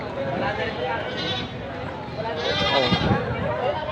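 Several goats bleat nearby, their wavering cries overlapping with a person talking throughout.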